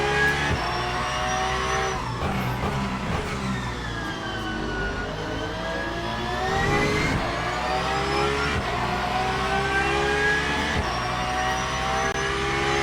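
A Porsche 992 in a racing video game at Le Mans, Circuit de la Sarthe, its engine revving hard and loud, pitch climbing and dropping through repeated gear shifts with sharp breaks between them.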